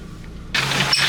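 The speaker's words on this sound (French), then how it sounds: "Le tracteur en face." A vehicle sweeps past on a rural road during a rally stage, quiet at first, then a sudden loud broadband rush as the oncoming tractor goes by close alongside the car.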